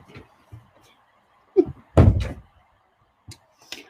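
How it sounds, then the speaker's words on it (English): A door is pulled shut indoors in a home, giving one solid thud with a short rattle mid-clip, surrounded by quiet room sounds and a few faint knocks. "Close my door, please."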